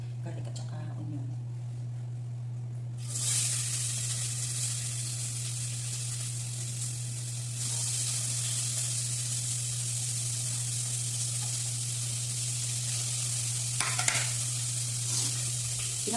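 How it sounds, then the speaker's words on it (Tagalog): Garlic and onion hit a hot pan with a sudden loud sizzle that swells further partway through and holds as a steady close frying hiss, with a few clinks near the end. "ilagay ko na guys yung garlic at saka onion"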